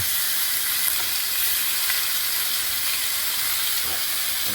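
Eight pork chops searing in a big hot pan, giving a steady loud broadband sizzle and hiss that stays even throughout with no talking.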